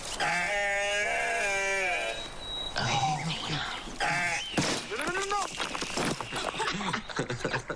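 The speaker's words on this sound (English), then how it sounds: "Whoa, check it out. Hey, baby goat." A baby goat lets out a long, loud, wavering bleat up close, followed by people talking excitedly over further scattered sounds.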